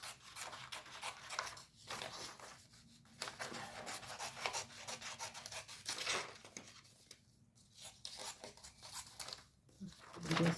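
A paper bouquet is roughly cut out with scissors, giving faint, intermittent snips and soft paper rustling in short bursts separated by brief pauses, close and quiet.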